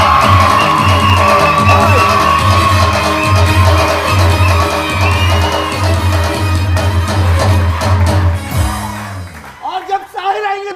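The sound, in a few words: studio audience clapping and cheering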